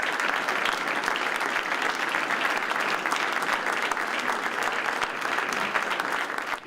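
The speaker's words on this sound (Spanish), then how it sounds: "Los aplausos resonaron en las paredes de un museo inaugurado por su padre." Steady applause from a crowd fills a museum hall in Galicia as Felipe VI is welcomed, dense continuous clapping with no break throughout, reverberating off the walls.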